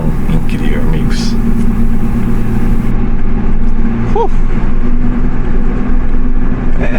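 A Toyota Supra races around the Nürburgring, its engine droning loud and constant from inside the car with revs shifting as it drives, while someone talks over it.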